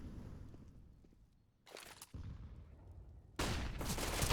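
A flashbang grenade goes off during a Counter-Strike match at the Blast.tv 2023 Paris Major, a sudden sharp burst followed by a loud, sustained noisy wash over quieter in-game background sound.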